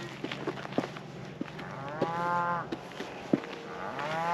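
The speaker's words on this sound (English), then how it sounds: "You can hear the cattle in the distance." Cattle on a Kansas ranch road, in the aftermath of a wildfire, low repeatedly from a distance, several drawn-out moos rising and falling over faint ambient noise, with no one speaking.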